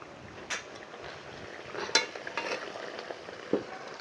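Ground garam masala being stirred into a curry in a pan, heard as soft scraping and occasional utensil clinks over a low background hiss, with no talk.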